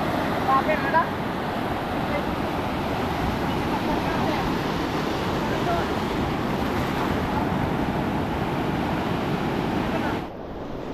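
Ocean waves wash steadily around a fishing boat at sea during a fight with a fish on a stick bait, a dense, continuous surf roar mixed with wind buffeting, loud and unbroken until it drops slightly near the end.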